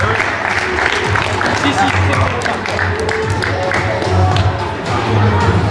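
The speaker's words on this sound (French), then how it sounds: "On applaudit bien fort, vice-champion du Tour de France." Crowd applause and cheering at a regional gaming show with esports and cosplay, a busy, loud mix of clapping, shouts and excited voices, with an announcer talking over the noise throughout.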